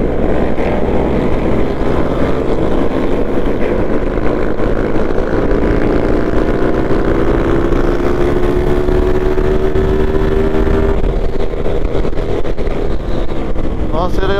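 A tuned Yamaha DT 200 two-stroke motorcycle accelerates on a night ride, its engine note climbing steadily under heavy wind roar before it drops off as the rider shifts.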